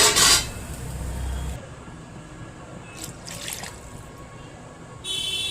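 Water poured into a pot of Bengali fish curry with potatoes and cauliflower, a brief loud splashing burst at the start, then a soft steady trickle and faint drips with a couple of small splashes.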